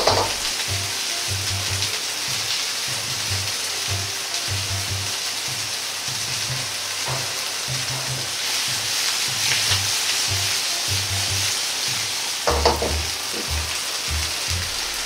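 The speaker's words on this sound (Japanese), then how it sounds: "底が焦げないように鍋を揺すりながらエビを焼いていきます。" Shrimp sizzle and crackle with garlic in a hot pan over low heat while it is shaken back and forth in rhythmic scraping bursts, loud and close.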